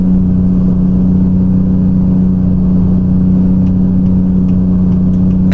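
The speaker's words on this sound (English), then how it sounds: "we are running a Cummins engine underneath the hood. I believe it's the N14 that I'm running" The Cummins N14 engine of a Kenworth W900 truck in American Truck Simulator runs steadily with a loud, deep, constant drone and an even hum throughout, with no voices.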